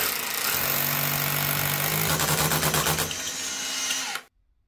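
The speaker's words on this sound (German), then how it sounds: "Nachdem ich ein Loch gebohrt habe" A power drill whines steadily and loudly through hard tile, grinding with a rattling pulse before cutting off abruptly.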